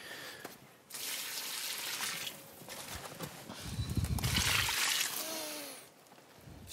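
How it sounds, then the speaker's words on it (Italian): Water is poured slowly into dry soil inside a vegetable greenhouse, giving soft splashing and trickling in a few bursts separated by brief quieter moments. "Adesso semplicemente verso un po' d'acqua all'interno, che aumenta questa capacità."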